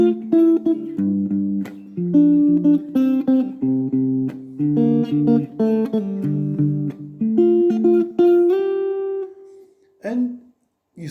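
Solo fingerstyle guitar plays the verse of a song, with a walking bass line under picked chords and melodic fills over roughly ten seconds, close-miked and clean, ending on a sustained note and a short final strum.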